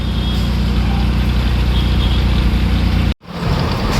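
Cars and trucks sit in heavy road traffic, engines idling nearby in a loud, continuous low rumble that drops out briefly for a moment before resuming.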